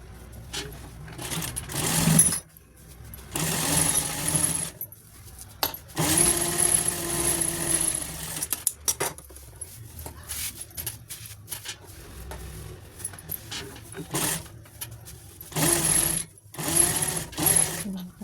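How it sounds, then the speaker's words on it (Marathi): Sewing machine stitching the sides of a small purse made from blouse-piece fabric, running in several short bursts of whirring with pauses between, close and fairly loud, with someone talking at times. "तिन्ही साईडने व्यवस्थित शिलाई मारून घेतली"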